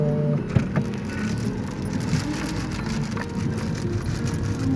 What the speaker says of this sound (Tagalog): Maganda kasi yung ulan eh